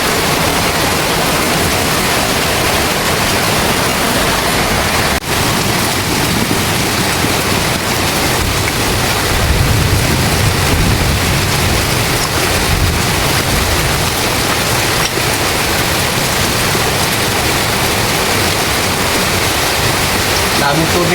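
Heavy rain pours steadily and loudly over a Philippine street scene, a dense unbroken hiss with deeper splashing roar near the middle, continuing without pause throughout.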